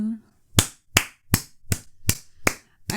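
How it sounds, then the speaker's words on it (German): A single person clapping slowly, seven evenly spaced sharp claps, close and isolated, with a brief voice at the start. "Ein Applaus für mich"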